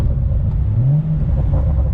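A BMW 435i's engine rumbles steadily through a downshift, with a short rising rev blip near the middle before it settles back to a low drone.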